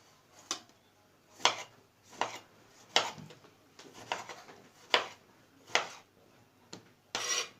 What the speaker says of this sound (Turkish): Şimdi domateslerimizi doğruyoruz